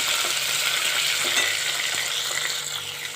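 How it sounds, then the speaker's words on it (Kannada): Onion frying in a pan with curry leaves for Mangalore cucumber sambhar, a loud, steady, hissing sizzle that fades slightly toward the end. "ಸ್ವಲ್ಪ ಈರುಳ್ಳಿ ಹಾಕಿದ್ದೀನಿ ಅದನ್ನು ಫ್ರೈ ಮಾಡ್ಕೊಳ್ಳೋಣ"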